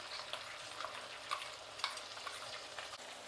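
Masala paste for Karnataka donne biryani fries in a pan, giving a soft, continuous sizzle with occasional light taps of stirring, faint and steady throughout.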